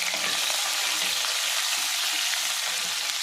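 Green chillies sizzle in hot oil with cumin in a pan while baingan bharta is cooked, a loud, steady, close frying hiss that runs unbroken throughout with no voices.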